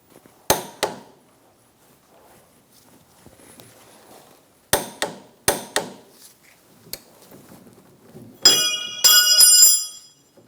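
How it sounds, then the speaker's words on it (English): Torque wrench tightening a front strut nut on a 2005-2010 Chrysler 300 during a strut and spring swap: a few sharp metallic clicks and knocks spaced apart, then a brief bright ringing clatter, fairly close in a quiet shop. "Now we're going to torque that to 95 foot-pounds."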